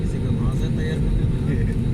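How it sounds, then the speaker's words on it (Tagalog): A seaplane takes off at the Maldives amid moored yachts, its engine a steady, loud, broadband drone. "may isang eroplano pandagat na nagano nag take off"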